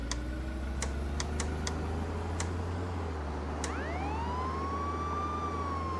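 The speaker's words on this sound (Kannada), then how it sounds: "ಓ ಸೈರನ್ ಯೂಸ್ ಮಾಡಿದ್ರೆ ಸರಿತಾರ ಅವರು." Police car siren in the video game Contraband Police winds up late and holds a steady tone over a constant engine drone, with scattered sharp clicks like keyboard typing before it starts.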